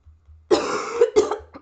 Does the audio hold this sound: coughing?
yes